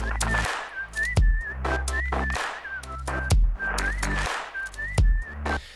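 A whistled melody rides over an electronic dance music drop, its short bright phrases repeating in loops above heavy kick drums and punchy percussion, loud and upfront.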